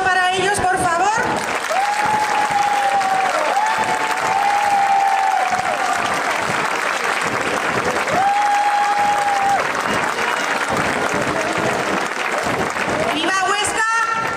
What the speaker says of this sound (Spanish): Un aplauso para ellos, por favor.